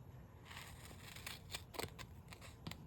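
Scissors snip through tape or fabric in a few quick, close cuts, short crisp clicks and rustles in a quiet room, with no talking.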